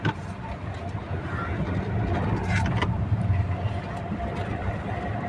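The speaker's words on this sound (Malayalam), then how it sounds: "അപ്പം നമ്മൾ ഉപ്പച്ചി വണ്ടി ഓട്ടുകയാണേ" A car driven by a father along a road, giving a steady low engine and road rumble heard from inside the cabin, fairly loud and continuous with no speech.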